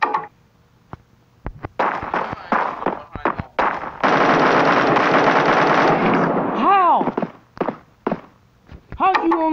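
Automatic AK rifle fire in the shooter game Bullet Force, a loud sustained burst of several seconds preceded by scattered single shots and clicks, with a voice talking over and between the shots.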